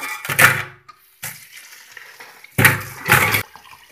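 A whole sea crab is washed in water before cleaning for a Mangalore-style crab masala, giving a few close, loud splashing and sloshing bursts separated by short pauses.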